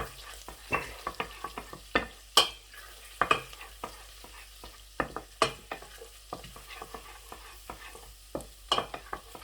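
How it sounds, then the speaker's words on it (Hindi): Garlic sizzles in hot butter over lowered heat in a pan for red lentil soup. Faint steady frying crackle runs throughout, broken by frequent clicks and scrapes of stirring, with no talking. "मक्खन माशाल्लाह गर्म हो चुका है। अभी मैं सबसे पहले लहसुन जो है तो इसमें ऐड करूँगा"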